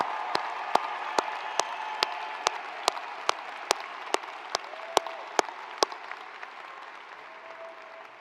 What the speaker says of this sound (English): Let's give all of our graduating students another huge round of applause